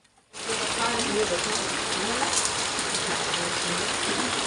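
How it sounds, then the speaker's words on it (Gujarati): After a brief quiet moment, heavy rain starts up and roars on steadily, a loud constant wash of falling water. "વરસાદ ચાલુ છે"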